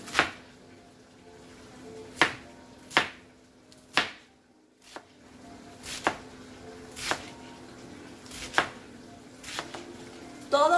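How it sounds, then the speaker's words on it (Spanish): A knife chops lettuce on a cutting board for tacos, with about a dozen crisp, separate thuds at an uneven, unhurried pace, close and clear with no talk. "Aquí está nuestra lechuga. No la voy a cortar toda."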